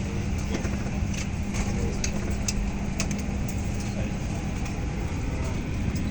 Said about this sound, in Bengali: বিমানটা পিছনের দিকে যেয়ে হচ্ছে ঘুরে যাবে